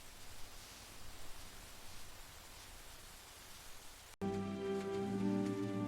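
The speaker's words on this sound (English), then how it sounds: "It is raining." Rain falls steadily as a soft, even hiss for about four seconds, then cuts off abruptly into a louder tonal passage.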